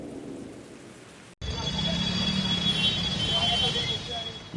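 Heavy rain with thunder in Sikar, Rajasthan, a steady loud downpour roaring close by after a brief quieter stretch, with rumbling low thunder underneath; a voice may be talking over it.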